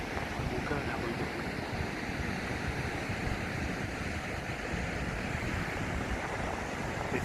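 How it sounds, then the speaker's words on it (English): Ocean waves wash into a fast-flowing inlet along a coastal walking track near Albany, a steady broadband rush of surf and moving water with some wind noise, constant and fairly close throughout. "There's the odd wave that comes in. Yeah, it does seem to flow quite fast."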